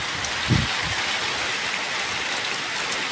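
Steady rain falls on a soybean farm where cows stand out in the wet, a dense even hiss of drops close by with a faint low thump early on.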